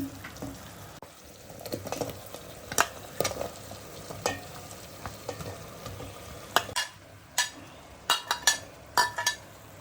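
Vegetables stirred into a pan of frying sambar with softened tomatoes, a low sizzle beneath repeated scraping clinks of a spoon against the pot, close and irregular, several sharper knocks toward the end.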